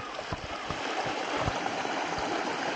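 Continuous rushing of a flowing water stream at a Buddhist temple in Ohara, Kyoto, steady and fairly close, with no voices.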